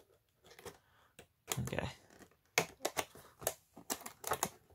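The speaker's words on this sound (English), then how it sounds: "Let's go ahead and carefully open it up. Cut around the side." Cutting open the packaging of a Monster Hunter Stories 2: Wings of Ruin Nintendo Switch game, with close crisp snips and cardboard scraping in irregular bursts; a voice speaks briefly.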